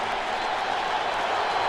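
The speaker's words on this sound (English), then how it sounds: "3rd and 9, and the crowd comes alive." A stadium crowd at a 2009 NFL game between the Bengals and Vikings in Minneapolis roars and applauds, a dense continuous wash of cheering and clapping at steady loudness for the short span.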